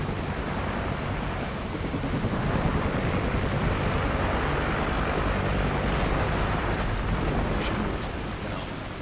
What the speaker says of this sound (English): Choppers are coming! Get down now.